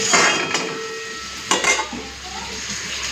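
Lid placed over a pot of potatoes simmering with salt and turmeric, a couple of metallic clinks and knocks over a soft sizzle, close and fairly loud.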